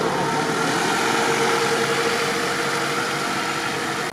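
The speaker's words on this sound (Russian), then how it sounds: "Холостой ход?" A Lada Niva off-road car engine idling at a steady, continuous mid-pitched rumble with light vibration, heard close and alone, no talk over it.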